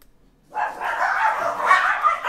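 A dog outside passing by a door, with a short burst of barking and yipping that starts abruptly and carries on for about two seconds, fairly loud and close, with no talk over it.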